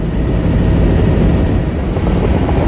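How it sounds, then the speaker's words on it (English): Helicopter flying low over the African savanna, a loud, steady broadband rotor and engine roar that fills the whole stretch without letup. "Man, was the helicopter quite loud, hence the headphones that I had so I could contact the pilot."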